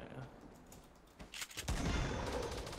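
Gunfire in the video game Fortnite bursts out as rapid rattling shots in the second half, louder and denser after a quieter stretch, with faint player talk underneath.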